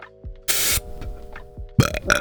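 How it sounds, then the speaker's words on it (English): A single loud, forced burp comes from a podcast host, rough and close to the mic, alongside short bursts of noise and movement sounds. "That was not a good burp."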